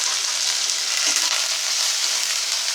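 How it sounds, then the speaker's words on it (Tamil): Drumsticks (moringa pods) frying in oil with salt, stirred in a pot: a steady, loud broadband sizzle throughout, with a faint stirring scrape near the middle and no voices. "கிண்டி விட்டுட்டு கொஞ்சம் நேரம் எண்ணெயிலேயே வேகட்டும்."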